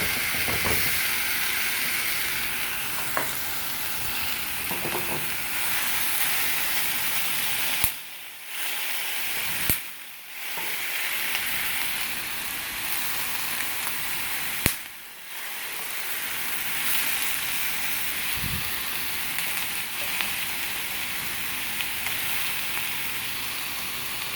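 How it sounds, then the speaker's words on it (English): Chopped salmon searing in a seasoned cast iron skillet, a loud, continuous hiss of steam and sizzle with a few brief drops in level, and no voices. "I'm gonna take my chopped up meat. I'm gonna add that. Just go ahead and add that to the pan."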